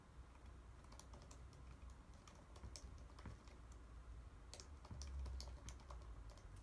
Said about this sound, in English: Right, my typing.